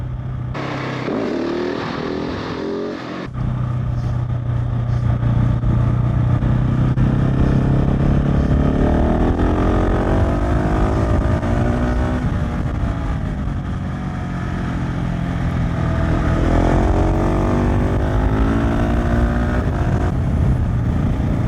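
A 2021 KTM 690 SMC R single-cylinder motorcycle cruising at speed on an open national-speed-limit road, its steady engine drone and wind rush loud and continuous after a brief lower-pitched opening, with a rise in revs midway.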